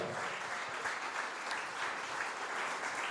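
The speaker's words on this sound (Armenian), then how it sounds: "Հարութ Ոսկանյան, ձեր բարձր ծափահարությունները։" An audience applauding at Harut Voskanyan's 46th birthday celebration in a hall, steady dense clapping from a large crowd heard at a moderate distance, with no voices over it.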